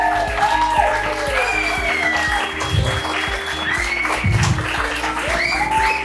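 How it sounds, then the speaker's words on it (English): Audience clapping at a diploma presentation for a women's leadership academy, applause carrying on under talk and room noise, with a few heavier low thumps along the way. "let's give them a good round of applause"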